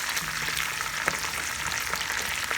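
Brussels sprouts frying in bacon fat, a dense steady sizzle close up, with faint clinks and scrapes as they are stirred around the pan.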